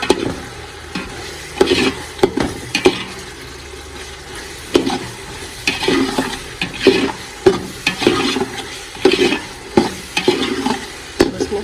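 Repeated scraping stirs matar pulao (rice with peas and ground black pepper) in a pot, with a faint sizzle underneath and irregular clanks of a utensil against the sides; no voices.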